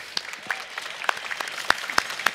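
Sparse, light clapping from a small audience at a cooking competition, a few scattered claps at an uneven rhythm, fairly quiet, with no talking.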